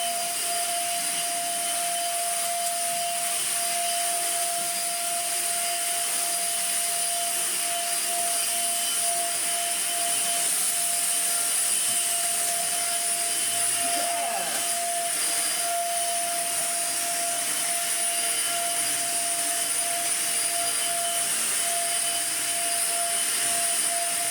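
A restored Dyson DC50 Small Ball vacuum cleaner runs continuously, a loud steady whine with a sharp tonal pitch over a rushing airflow hiss, unchanging for the whole stretch with no talk.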